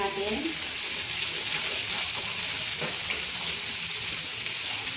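Potatoes frying in a pan for chicken pastel, a steady loud sizzle with stirring that continues without a break.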